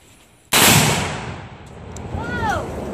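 A rifle shot detonates a Tannerite explosive target outdoors with one sudden, loud, sharp blast that trails into a long rumbling echo, and a faint voice follows the blast.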